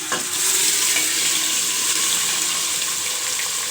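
Chunks of beef tikka meat sizzle loudly in a hot pan with browned ginger and garlic, a steady close frying hiss with occasional stirring scrapes, no voices.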